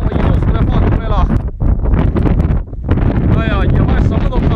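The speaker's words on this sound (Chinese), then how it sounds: "看这风多大！" Strong gusts of wind blow hard across the microphone outdoors on a farm, a loud, rough roar that briefly drops away, while someone talks over it.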